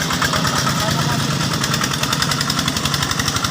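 A farm tractor's diesel engine chugs steadily with a rumbling, rhythmic throb as it passes, close and loud throughout.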